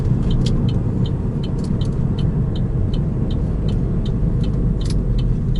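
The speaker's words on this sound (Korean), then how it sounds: "브레이크를 놔준 다음에 다시 악셀로 가속을 했죠" A manual-transmission car moving at about 1500 rpm in third gear, brake released and throttle reapplied after a left turn; a steady, loud engine and road rumble with faint ticking above it, no voices.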